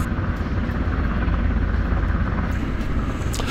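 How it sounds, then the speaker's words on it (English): A US Coast Guard rescue helicopter hovers over a cruise ship during a medical evacuation, its rotor and engine roaring loudly and steadily throughout. "the helicopter came back to the ship and lowered a line down"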